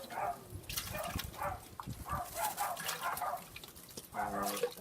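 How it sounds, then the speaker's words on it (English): Several dogs bark and yip in repeated bursts, a little distant and moderately loud, with whimpering notes between the barks. "Apologies for the barking dogs."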